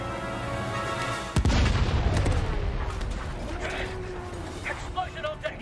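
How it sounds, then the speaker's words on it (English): A loud, sudden boom of an explosion on a ship deck in the animated Star Wars: The Bad Batch, followed by a rumbling decay. Voices and soundtrack tones continue around it. "Explosion on deck!"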